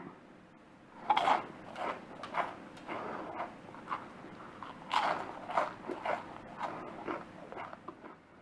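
Crisp, salty Thai rolled wafers made with coriander leaves and tiny shrimp are bitten and crunched close up, giving several sharp crackling bites with chewing in between and no talking.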